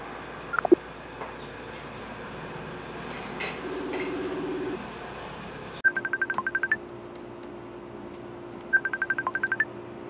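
A phone number is dialed on a telephone keypad, two quick runs of short beeping tones separated by a pause, over a low background hum.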